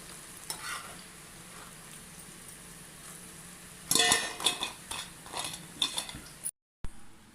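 Sorakaya garelu, bottle gourd fritters, frying in hot oil with a steady soft sizzle, joined midway by louder stirring and scraping of a utensil against the pan, with brief clinks before a short cut.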